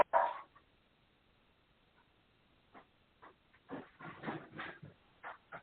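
A 60-pound dog moving about and whining indoors, a sharp opening sound followed by quiet and then scattered faint whimpers and shuffles, no talk.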